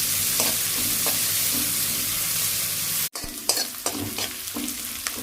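Onion sautés in a pan with a constant bright sizzle and repeated stirring scrapes; after a brief dropout the frying returns with more frequent, clattering spatula strokes.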